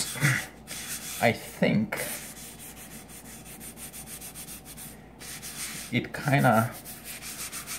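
Scrubbing copper-bottom cookware with Penny Brite cleaner gives a steady abrasive rubbing with louder bursts of strokes, heard close up, while a person talks briefly over it.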